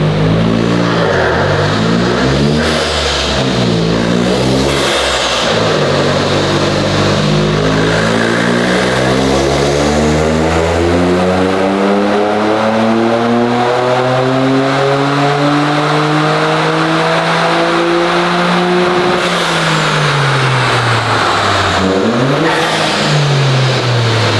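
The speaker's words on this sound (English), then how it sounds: "The immense blow-off noise is amazing." A Toyota GR Corolla's turbocharged engine, fitted with an aftermarket intake, revs loudly up and down repeatedly, pitch sweeping through gears, with whooshing blow-off valve bursts between pulls; no one speaks.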